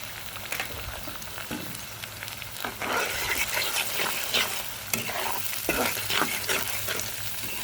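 An egg sizzles in a hot pan with rice and carrots for homemade fried rice. It is stirred with a scraping, clattering utensil, and the frying grows louder partway through. The sound is close and steady, with no talking.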